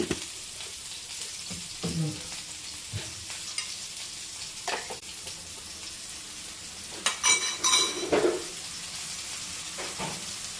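Kashmiri chilli powder frying in a pan for snake gourd thoran, a continuous soft sizzle with occasional stirring scrapes and clinks, close by.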